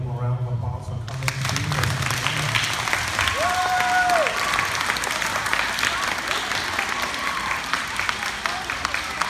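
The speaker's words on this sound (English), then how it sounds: "I would like for you all to give them a round of applause for coming." An elementary school audience at a Black History program gives the visiting parents a sustained round of applause that swells after a brief quiet opening and holds at a steady roar, with some voices mixed in.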